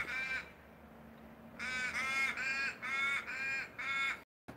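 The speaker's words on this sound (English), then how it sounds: "There's a couple of beautiful raven. And a couple of crows in that tree there." Ravens and crows call from a tree in the rain, a series of five or six harsh, nasal caws in steady rhythm, moderately distant, over a soft patter of rain.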